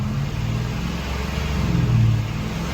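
A 2006 GMC Sierra's 5.3-litre LM7 V8 revs steadily, a dense low engine rumble holding loud and close and swelling slightly near the end.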